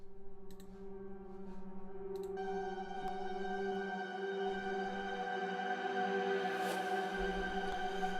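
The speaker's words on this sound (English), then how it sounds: "It's kind of those swelling sounds in the beginning" Reversed swelling sound effects from a music production session build in layered tonal drones and harmonics, rising gradually in loudness with a few clicks near the start and no talking.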